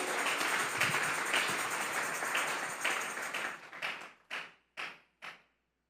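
A church congregation claps steadily for several seconds, the applause thinning and ending in a few last scattered claps.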